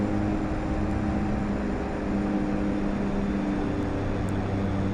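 Steady drone of the twin turboprop engines of a DHC-6-300 Twin Otter in a flight simulator, a constant heavy hum with tonal whine, unchanging and alone.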